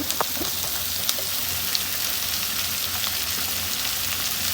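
Onions sizzle and crackle steadily in hot oil for a spicy chicken curry, a dense hiss with a few faint clinks and no voices.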